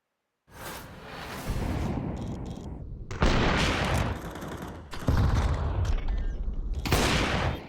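Gunfire from Counter-Strike, rapid bursts of shots and weapon blasts in dense, loud volleys with brief gaps between exchanges, close and continuous over several seconds.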